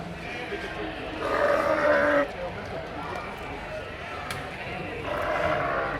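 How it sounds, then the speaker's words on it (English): Dutch Spotted sheep bleat in a busy pen area at the Great Yorkshire Show, two drawn-out calls rising above a crowded, chattering hall, with people talking throughout. "The amount of movement in behind the scenes of getting all these sheep in is absolutely chaotic."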